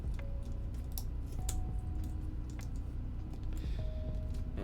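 Keystrokes on an Iron 165 mechanical keyboard, whose switches are hard to bottom out, make scattered soft clicks at an uneven pace, faint against a steady background hum.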